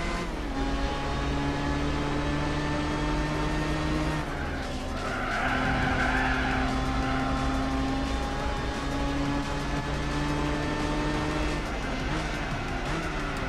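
A race car in Gran Turismo 4 brakes hard with tires squealing across several seconds over a steady, loud engine drone, then the engine note climbs again as it pulls away.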